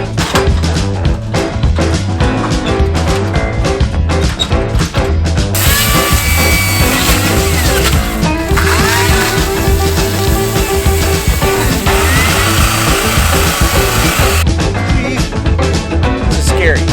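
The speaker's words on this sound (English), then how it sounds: "get the chainsaw. We're gonna chop this tree down right now." A chainsaw roars loud and close, running steadily for about nine seconds while cutting down a tree, before cutting off.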